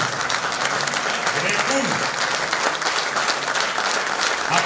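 An audience applauds at a Romanian folk concert given by a men's choir and folk orchestra in Moinești; dense, steady clapping fills the whole stretch while a voice speaks briefly over it.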